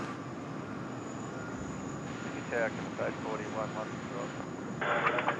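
UPS Boeing 747 cargo plane at Sydney Airport, heard as a broad, distant jet roar under a fainter, muffled voice and light outdoor background noise.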